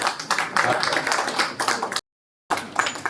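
Audience applause at a Punjabi film music launch in Mohali, a dense burst of many hands clapping that cuts off briefly and then resumes.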